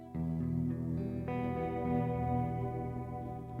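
A thick, sustained guitar tone run through a sub-octave reverb pedal, with deep low-end doubling and a washy, reverberant tail as a second note joins in.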